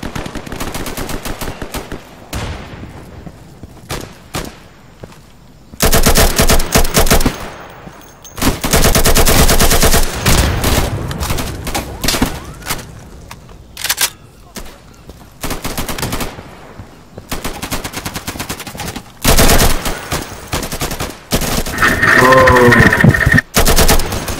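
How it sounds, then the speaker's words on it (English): Automatic weapon fire in the shooter game Insurgency: loud, sustained bursts of rapid gunshots separated by short pauses, with a brief voice near the end. "automatic weapon!"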